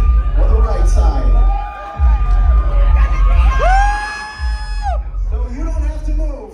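A concert crowd at The Observatory in Santa Ana, California, at a show, cheering and screaming loudly and steadily, with high rising whoops and shrieks above the dense roar.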